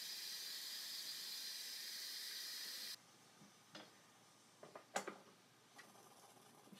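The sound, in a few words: steam escaping from Instant Pot pressure cooker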